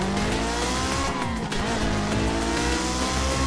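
A rented car in Spain roaring close by, its engine revving steadily with a tire squeal, loud and continuous with no talking.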